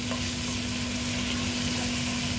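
Rice with paprika frying in a pan for stuffed peppers, a constant loud sizzle with a steady hum underneath and no break.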